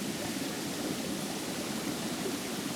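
Forest streams murmur in a steady, soft rushing wash of flowing water, even and unbroken throughout, with no voices.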